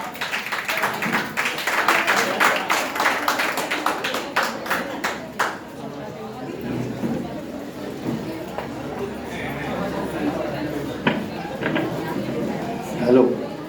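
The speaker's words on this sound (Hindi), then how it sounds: "तालियां बजनी चाहिए" Clapping from a group in a room at a farewell ceremony starts strong, then thins out into scattered claps, with people chattering and moving about.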